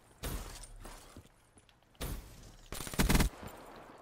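Gunshots in a first-person shooter video game, two loud separate bursts of fire with a quieter gap between them and mechanical clatter in the background.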